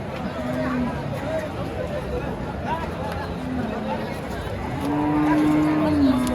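Native bullocks at a Qurbani cattle market, with a long, loud, low moo near the end over busy market noise and a person talking.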